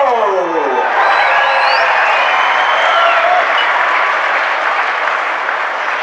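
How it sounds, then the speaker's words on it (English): Loud, steady applause from a large crowd at a modified car race at the Central Washington State Fair, with scattered cheers and whistles running through it. "Get loud for Jason Bolio"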